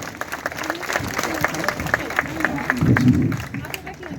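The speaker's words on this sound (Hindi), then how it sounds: "इस भावना से भाई सुमित ओरछा का एक बार तालियों से स्वागत करें।" At a Hindi poetry gathering (kavi sammelan) at the Cellular Jail in the Andamans, an audience claps to welcome a poet, with moderate and somewhat uneven applause and crowd murmur, and a voice speaking briefly near the end.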